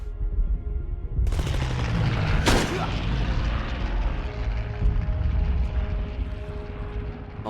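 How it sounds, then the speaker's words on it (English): Stuka dive bombers roar overhead in the World War II game Enemy Front, a loud sustained aircraft drone with a sharp gunshot crack partway through, and game battle sounds continuing beneath. "if I fire right when the Stukas fly over, it'll cover the shots"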